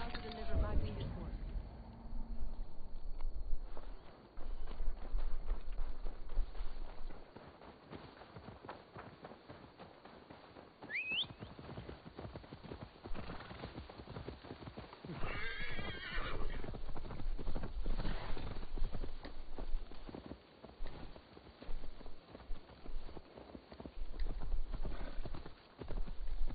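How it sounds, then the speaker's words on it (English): Horse hooves clip-clop at a trot under game music and talk in Assassin's Creed Valhalla, with a brief whinny partway through. "Now to deliver Magni his horse."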